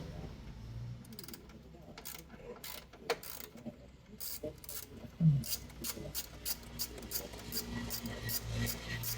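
A ratchet wrench works loose the bolts on a Honda City radiator fan motor, giving repeated quick clicking ratchet bursts with pauses between them, close up and fairly quiet in a garage-like setting.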